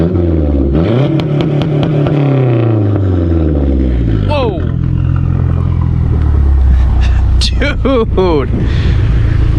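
A Mazdaspeed 3 with its engine held on two-step launch control, loud rapid revving and popping swells and falls in close repeated bursts, while people exclaim over it.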